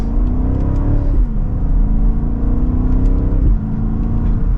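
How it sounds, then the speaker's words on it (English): A 2024 BMW X7 M60i SUV engine pulls hard from second gear, its exhaust note rising in pitch twice with a brief dip at each shift, loud and close. "Hopefully you can hear that exhaust"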